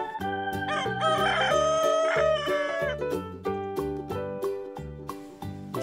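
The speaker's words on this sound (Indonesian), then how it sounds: "Bisa berkokok." A rooster crows in the video game Jurassic World Evolution 2 over a bouncy, steady game-style melody, the call loud and drawn out near the start before the tune continues alone.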